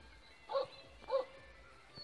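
Dogs on a boar hunt give two short, distant barks about half a second apart over faint background noise outdoors.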